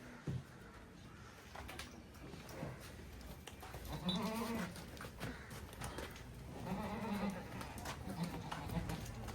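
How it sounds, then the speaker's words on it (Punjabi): Goats bleat several times in wavering, nasal calls over a busy outdoor livestock market background with people talking nearby. "ਦੇਸੀ ਬੱਕਰੇ ਨੇ ਦੋਏ ਦੇਸੀ ਦੇਸੀ"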